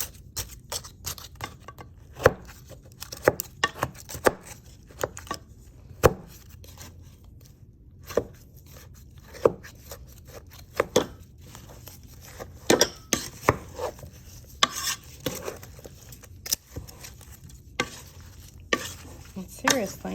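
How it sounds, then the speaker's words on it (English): Homemade garden-tomato sauce stirred in a pot, a spoon knocking and scraping against the sides in irregular sharp clicks and clatters over a quiet background, close up with no talking. "And take the pot, I'm gonna give it a little stir"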